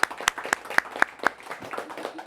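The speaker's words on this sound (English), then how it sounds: "Give them a round of applause" Audience applause for the Sergeant Bluff-Luton quiz bowl team opens with several sharp, distinct claps, then thins into a softer, scattered patter over about two seconds.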